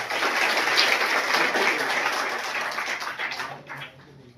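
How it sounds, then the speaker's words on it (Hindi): A crowd of children at a government school event applauds steadily with dense, continuous clapping that gradually thins out and fades near the end. "मैं चाहूंगा सभी बच्चे तालियों से उनका स्वागत करें।"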